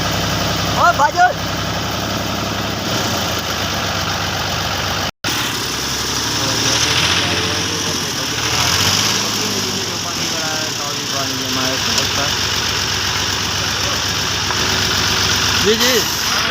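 A tractor ploughs a drainage ditch to carry rainwater out of a field. Its engine gives a steady, close, mid-pitched rumble throughout, with voices talking over it.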